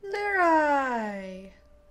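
A video-game cat gives a single drawn-out meow, loud and close, sliding downward in pitch before fading.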